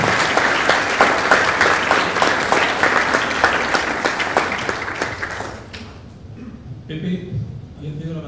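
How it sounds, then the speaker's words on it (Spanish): Audience applause closes a panel at an international masculinities colloquium, dense clapping for about six seconds that then fades into quiet room tone with faint voices. "pido un aplauso, por favor."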